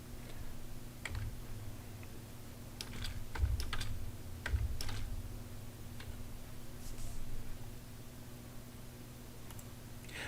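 Keys tapped on a computer keyboard while entering an address in a DHCP server setup, a few sparse clicks over steady low room hum, no talking.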